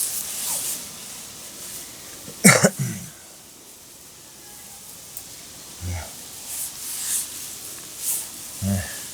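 A man coughs, with one loud harsh cough burst in the middle and a few softer short coughs or throat sounds later, close by in a quiet room.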